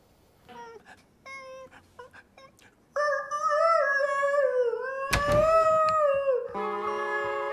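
A puppy left alone at night whimpers in short, broken cries, then breaks into long, loud, sustained howls and wails close by.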